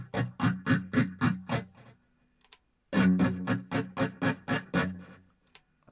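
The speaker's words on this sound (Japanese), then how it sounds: "これはモジュレーション、これ今フェイザーを入れてあるんですね。" Electric guitar through a BOSS MS-3 multi-effects switcher with distortion and a phaser, playing quick rhythmic chugged chords in two bursts with a brief pause between them, moderately loud with no voice.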